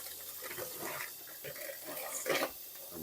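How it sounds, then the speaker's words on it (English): Tap water runs steadily while flounder fillets are rinsed in a kitchen sink, a soft continuous splashing with a brief louder gush near the end. "I'm rinsing and drying the flounder."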